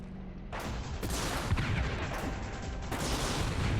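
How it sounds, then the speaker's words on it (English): Dense gunfire and booming explosions from the video game Army Men: Sarge's War, a sustained rumbling barrage with sharp hits, continuous and moderately loud with no voices. "I lose the point-blank rocket fight with the tank."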